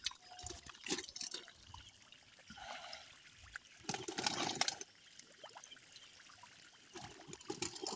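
Water is poured outdoors beside an old pond being bailed out for fishing, in faint, intermittent trickles and splashing bursts with quiet gaps between them.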